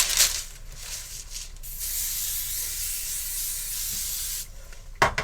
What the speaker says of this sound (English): So I'm just going to give a good shake and spray the surface